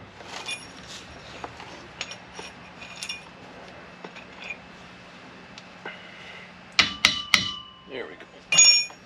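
Several sharp metallic hammer strikes on a 1957 Chevy Bel Air convertible, a few scattered taps and then a quick cluster of louder blows, close by in a quiet room.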